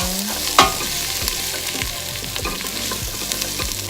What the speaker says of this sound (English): I just want to make sure I have a nice film at the bottom of the pot to saute these